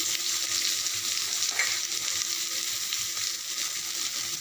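Chopped garlic and onion fry in hot oil for a lote fish dish, a dense, even crackling sizzle that carries on close and loud with no pauses.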